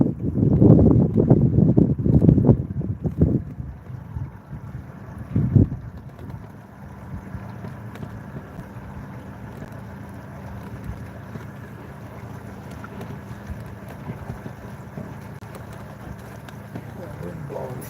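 Wind gusts across open water on a night fishing outing, buffeting the microphone with loud low rumbles at first, then settling into a steadier, softer roar.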